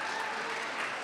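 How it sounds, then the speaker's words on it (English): Applause from an audience of young people gathered at a Denim Day event in Brooklyn Borough Hall, a brief, fairly faint, steady wash of clapping with no voices over it. "Give yourselves a round of applause to all these great young people."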